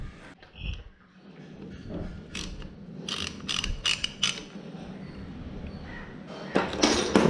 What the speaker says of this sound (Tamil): ஸோ இப்போ ஒன் வேஸ் கிளச்சோட போல்ட்டை ரிமூவ் பண்ணிடலாம்